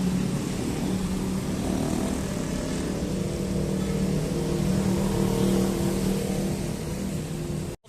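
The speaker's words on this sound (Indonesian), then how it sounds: "Oke, busnya datang teman-teman ya." A low-deck city bus on route 7Q pulls in at a stop, a close, steady diesel engine rumble with low droning hum and passing traffic noise, holding level before cutting off abruptly.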